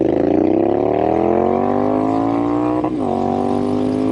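A Triumph Street Scrambler 900 motorcycle revs steadily upward until it hits the rev limiter, then briefly cuts and resumes, loud and close throughout.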